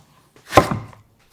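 A knife slices through an eggplant and thuds onto a cutting board in one firm chop, with the start of a second cut at the very end, close and clear with no talk.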